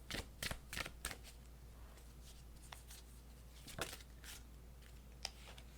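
A deck of veggie oracle cards is shuffled in quiet, crisp riffling bursts: a cluster at the start, scattered flicks, then another brief riffle partway through.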